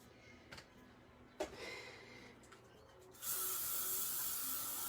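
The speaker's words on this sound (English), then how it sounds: "And then I shall get my hairspray again." Hairspray spritzed onto a handmade card coloured with soft pastels: a brief faint puff, then a steady loud aerosol hiss from about three seconds on, with quiet handling clicks before it.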